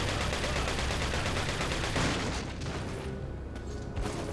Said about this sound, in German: Der schießt, der schmeißt Granaten.